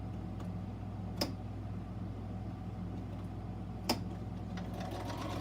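A sewing machine stitches a box bag seam at a steady, even hum with a faint regular mechanical chatter, plus two sharp clicks, close and fairly quiet.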